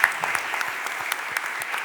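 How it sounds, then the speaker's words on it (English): Audience applause fills a city council chamber during a Philadelphia City Council stated meeting, a steady dense patter of many hands clapping at moderate level, with no voices over it. "let's give Pan a big round of applause."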